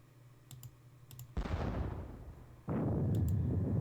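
Artillery fire in a Gettysburg war game: two booming cannon blasts with long decaying rumbles, the second louder, preceded by faint clicking of a keyboard or mouse, no talk.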